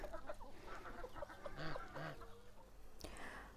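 Chickens cluck and squawk close by, with geese honking among them, over a steady background of outdoor noise.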